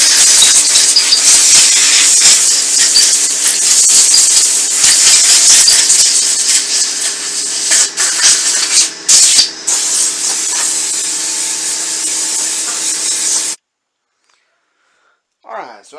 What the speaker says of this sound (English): Get your little spray nozzle here, and all I do is just blow out any excess trash that I can't get.